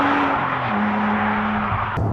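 A BMW Z4 Coupe with 170,000 miles drives with a steady engine drone that shifts pitch slightly, loud and close, with tyre and road noise and a brief knock near the end.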